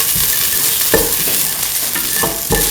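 Garlic and ginger sauté in a pan with a loud, steady sizzle, punctuated by a few scraping stirs close by.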